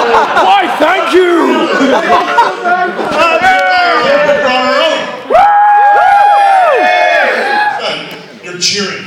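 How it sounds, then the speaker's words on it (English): A live wrestling crowd cheers, whoops and chatters loudly throughout, with voices shouting and laughing over each other in a noisy arena. "I'm insulting you and you're cheering."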